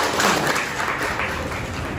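Pupils in a classroom lesson applaud a classmate's answer with a short stretch of scattered, moderately loud clapping that continues evenly throughout.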